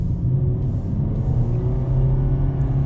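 2021 Nissan Sentra with a CVT transmission accelerating in its lowest L setting, a steady low engine drone heard from inside the cabin, holding a flat strained pitch throughout without talk.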